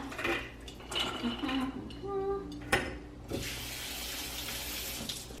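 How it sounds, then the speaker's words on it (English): Soaked almonds and dates are strained and rinsed under a running kitchen tap, with water splashing into a strainer in a sink, light clinks of dishware, and a steady hiss of flow through the second half. "I'm gonna strain them in here and then rinse them out"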